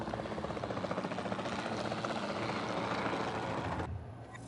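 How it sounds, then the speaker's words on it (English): A capture team helicopter in the video game Jurassic World Evolution 2 flies with a loud, steady rotor thrum and engine roar that fills most of the clip before dropping away sharply near the end. "Then the sensible thing is to take a capture team helicopter."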